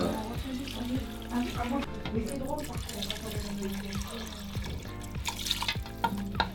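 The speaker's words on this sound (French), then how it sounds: "on va rajouter juste de l'eau pour les couvrir en fait" Water pours from a tap into a cooking pot over potatoes, a running splash with scattered clinks and light kitchen knocks, while people talk now and then in the background.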